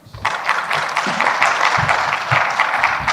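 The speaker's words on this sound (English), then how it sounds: "they are clapping for me" Applause from the audience at a science-policy plenary session on day 2 of INGSA2024. A steady wash of many hands clapping holds for about three seconds, close and full, with no talking over it.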